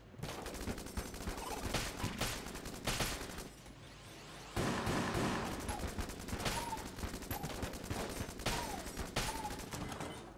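Dense, continuous automatic gunfire from Enter the Gungeon rattles almost without a break, dipping briefly in the middle before resuming, loud over the game's effects.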